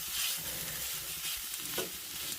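Millet Mexican mint rice stirred in a pan, a soft steady hiss with light scraping and a brief utensil knock midway, fairly quiet and close, no talking.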